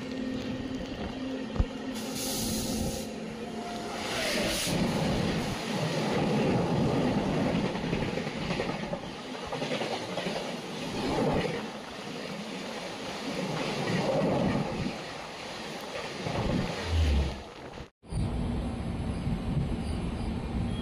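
Another train passes while riding inside a moving Indian Railways train on the ghat section beyond Lonavala, a loud continuous rumbling rush with rattling and clattering wheels that surges, then cuts off sharply near the end.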